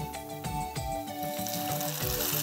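Salted, oiled water with a pinch of turmeric at a rolling boil in a pot for macaroni, bubbling and churning steadily and fairly loud, with no voices over it.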